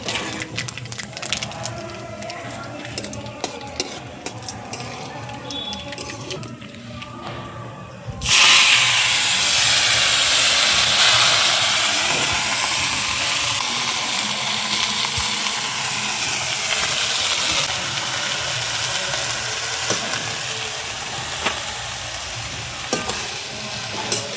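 Dried red chillies and black cumin dropped into hot oil, bursting into a loud, hissing sizzle that continues steadily after a quieter stretch of kitchen clatter.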